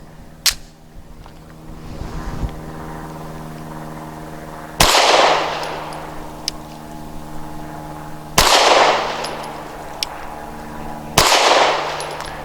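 Three Winchester Super Clean 90-grain zinc-core, lead-free snub-nose rounds fired from a Taurus G3 pistol, each a sharp loud report with a short decaying tail, spaced a few seconds apart outdoors, preceded by a couple of faint clicks.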